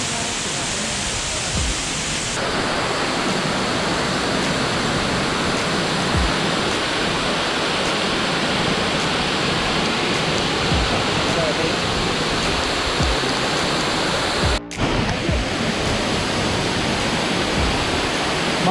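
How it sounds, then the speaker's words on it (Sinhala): A waterfall at Horton Plains pours with a strong flow, making a loud, continuous roaring rush that stays steady throughout, with a brief dip near the end. "මේ වතුර පාරම් ගොඩක්ම සැරයි"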